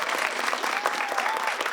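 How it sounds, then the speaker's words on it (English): A studio audience gives a round of applause for the Our Lady of Lourdes team on the School Duel quiz show, a loud, even burst of many hands clapping together throughout. "Give them a round of applause."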